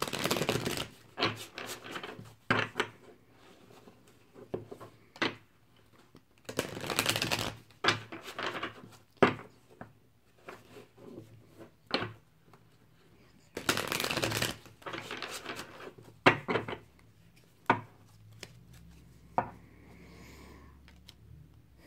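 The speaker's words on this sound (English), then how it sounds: "I'm just going to shuffle these cards real quick." Oracle cards from a Chakra Oracle deck shuffled by hand, giving crisp riffling bursts and soft slides repeated in irregular bursts, close and fairly quiet with no talking.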